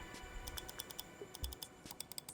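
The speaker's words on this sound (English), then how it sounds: "it is just as satisfying and as clicky and as responsive as a Omron optical." Rapid, light clicking of optical keyboard switches, a quick irregular flurry of crisp keystrokes close up in a quiet room.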